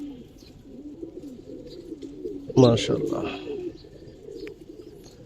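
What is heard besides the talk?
pigeons cooing on a Bangladeshi pigeon farm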